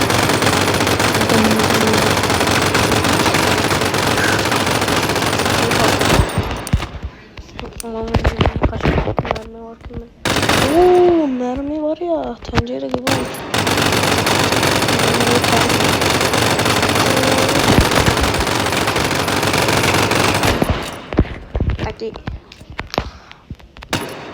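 Rapid automatic gunfire in the video game Melon Sandbox, loud bursts filling most of the clip with short pauses between, while a person talks during the quieter gaps.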